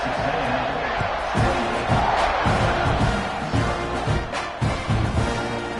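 A home crowd at a college football stadium roars and cheers in a sustained wash of noise, with rhythmic surges and claps rising and falling while a commentator talks over it.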